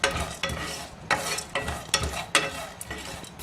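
Cloves, cardamom, cinnamon, chillies, cashews and poppy seeds dry-roast in a pan while being stirred. Close, uneven scraping strokes repeat every half second or so over a faint crackle, with no talking.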